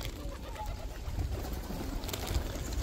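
Pigeons cooing at a Thai temple, low repeated coos amid busy outdoor background noise, fairly close.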